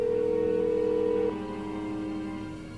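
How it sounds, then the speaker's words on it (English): A telephone in Art of Murder: FBI Confidential gives a steady tone that cuts off into a lower, softer ringing or line sound, heard close and alone for a few seconds. "I'm making a phone call."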